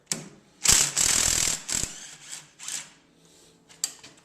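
A ratchet loosens 15 mm bolts on an electric motor of a Uni-Plow pump, with close, loud bursts of rapid clicking followed by shorter, fainter ratcheting spurts and a final sharp click.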